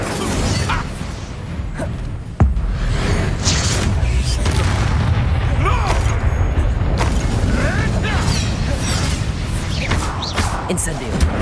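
Incendio fire spell casting in Hogwarts Legacy: a sharp blast opens a dense stretch of crackling, whooshing magical combat noise with creaks and pops, loud and continuous throughout.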